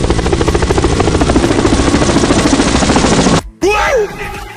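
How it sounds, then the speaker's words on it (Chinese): An aircraft in an animated scene passes overhead as a loud, steady, rapidly pulsing rotor-like drone that fills the scene, then cuts off and gives way to a brief sweeping whoosh. "王少，你快看那是什么，怎么好像是飞机。"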